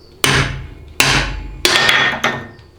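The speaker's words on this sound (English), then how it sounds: "And then you can come in with a pry bar that you can hammer on" A hammer strikes a pry bar wedged against a 700R4 automatic transmission, four loud, close metallic blows spaced under a second apart, each with a short ringing tail.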